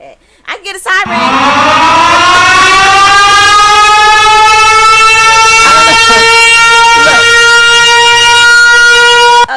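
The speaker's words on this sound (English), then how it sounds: "Okay, that siren is just too long for me." Siren sound effect played loud over a radio broadcast: one long, sustained, rich-harmonic wail that rises slightly in pitch and runs for about nine seconds, with brief noise bursts before it begins.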